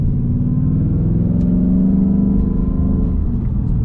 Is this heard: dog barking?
no